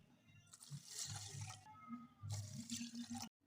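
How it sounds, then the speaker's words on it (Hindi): Water runs and splashes steadily into a pan of sugar for a few seconds, then cuts off abruptly. "3 कप हमने इसमें पानी ऐड कर देंगे।"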